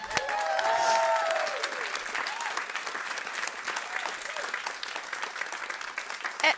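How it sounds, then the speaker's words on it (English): An audience claps for farmers, a dense round of applause that swells loud at once and then slowly thins, with a few voices and tones rising over it early on. "Please give farmers a round of applause."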